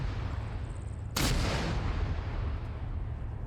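A sharp, loud artillery blast in a military video game bursts in and leaves a dense, continuous rumble of shelling and noise that fills the rest of the stretch, with no talking.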